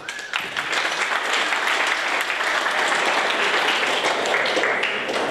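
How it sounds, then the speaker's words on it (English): Audience at a Lean Startup Melbourne presentation evening breaking into a round of applause, dense sustained clapping that starts suddenly and stays full and steady to the end. "Round of applause."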